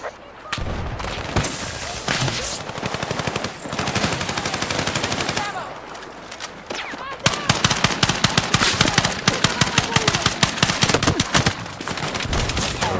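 Battlefield 6 beta gunfire in a multiplayer match: dense, loud automatic weapon bursts and rapid shots fill the whole stretch, growing into sustained rattling fire near the end, with a voice talking underneath.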